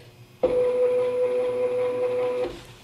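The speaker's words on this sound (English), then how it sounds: "So I got to move the carriage forward a little bit." The motorized carriage of an automated bandsaw sled drives forward with a steady electric motor whine, starting abruptly, holding an even tone for about two seconds, then stopping, close by in a quiet workshop.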